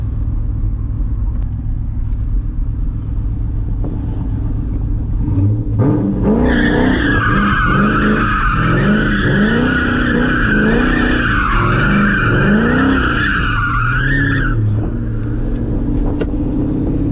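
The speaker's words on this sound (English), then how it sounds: "Who doesn't like a Corvette spinning in circles, baby?" A C6 Corvette spins in circles, its tires skidding and squealing loudly in wavering, looping howls over a steady engine rumble, close and continuous for most of the stretch.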